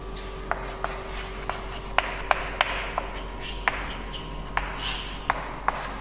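Backward counting numbers written during a class, with soft continuous scratching of writing and a dozen sharp, evenly spaced taps as each stroke or number is marked, under a steady low hum.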